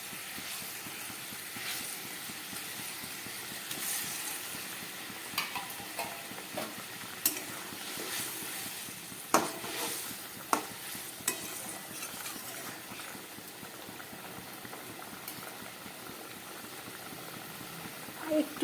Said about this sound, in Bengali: ঝোলটা ফুটে উঠেছে, এবার এর মধ্যে আমি এই মাছ ভেজে রাখা মাছগুলো দিয়ে দিচ্ছি